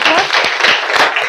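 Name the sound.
class applause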